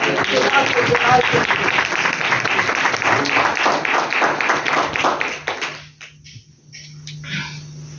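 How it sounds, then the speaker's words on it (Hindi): Audience applause rings out in a religious gathering, dense and steady for about five seconds. It then fades into scattered claps and a low hum. "जोरदार तालियां"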